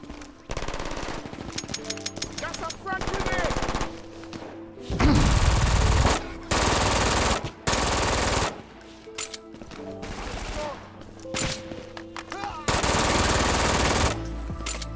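Gunfire from the video game Brink: loud, close bursts of automatic weapon fire repeat throughout, with short pauses between volleys and heavier sustained stretches.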